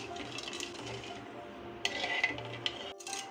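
A spoon stirs sugar into cooled saffron milk for kulfi, giving light scraping and clinking against the vessel that runs steadily with a few sharper clinks near the end.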